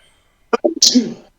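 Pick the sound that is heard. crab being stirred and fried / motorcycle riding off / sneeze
sneeze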